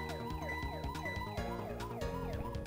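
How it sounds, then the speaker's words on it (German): A wailing, looping siren switched on in the Ghost Trick video game, sweeping up and down steadily and loudly over a busy game soundtrack throughout. "Ich schalte nochmal die Sirene an, um ihn zu verschrecken."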